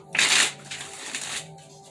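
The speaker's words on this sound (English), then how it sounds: "Last shuffle." Tarot cards being shuffled by hand, a short burst of crisp riffling close up, then softer card rustles fading out.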